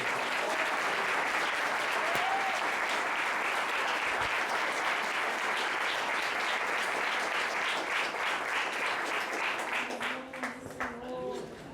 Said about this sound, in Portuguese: Quem pode, assente glorificando o Senhor com as lindas salvas de palmas a Ele